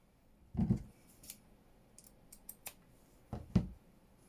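Scissors snip fabric in two separate bursts, each a short close crunch of cutting, with faint light clicks and handling sounds in between while someone works with fabric embellishments on a craft project.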